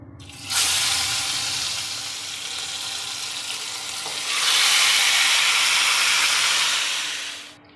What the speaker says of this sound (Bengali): ফোড়নটা হয়ে গেছে, এখন আমি মাংসটাকে ঢেলে দেবো।